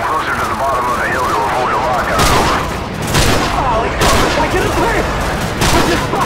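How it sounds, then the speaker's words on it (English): Airstrike explosions and gunfire in the video game Call of Duty 4: Modern Warfare, with loud booming blasts recurring about once a second over continuous rattling gunfire, and voices talking over the battle. "Target confirmed. Stand by for airstrike."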